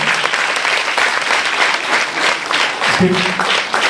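An audience applauds after a Christian Telugu skit about a sin chair: dense, steady clapping from many hands, loud and close, running for the full few seconds with no pause.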